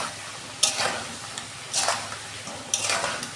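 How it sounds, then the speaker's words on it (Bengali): Potatoes frying in oil over a low gas flame for aloo dum, with three bursts of stirring and sizzle against a quieter background hiss. "আমি গ্যাসের ফ্লেমটা আস্তে করে দিয়ে আমি আলুটা ভাজছি"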